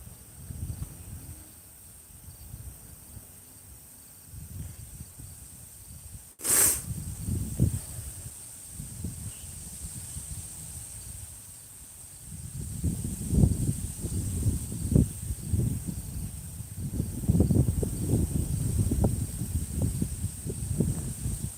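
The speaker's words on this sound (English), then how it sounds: "Pretty windy out here." Wind gusts and buffets outdoors in Kokomo, Indiana in rumbling surges, growing stronger in the second half, with a sharp click partway through.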